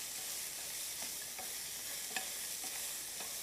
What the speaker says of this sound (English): I'm gonna give it a quick little stir